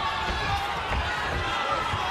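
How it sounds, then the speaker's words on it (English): A fight crowd at Resort World Arena roars steadily in a broad, distant-sounding wash, with a voice faintly mixed in underneath. "the crowd appreciative of the action here at the Resort World Arena"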